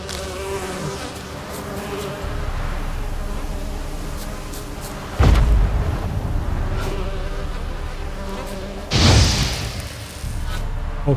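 Steady insect buzzing of bees swarming in The Witcher 3 on Fyke Island, continuous and close, with two deep booming thuds breaking through partway along.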